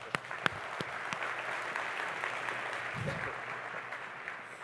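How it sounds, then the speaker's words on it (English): A keynote audience gives faint, distant applause, a few sharp isolated claps at first, then a steady soft patter of many hands that holds evenly throughout. "round of applause"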